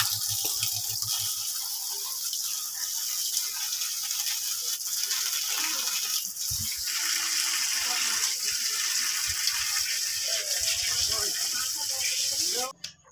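A tap runs steadily while fish for a green banana fish curry is washed in a sink, the water gushing and splashing continuously with occasional handling clatter and a voice in the background.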